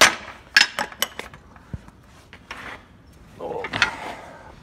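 Sharp metallic knocks from a ball peen hammer on a farm sprinkler install, several quick strikes early on, then scattered clanks and mechanical rattles, fairly close.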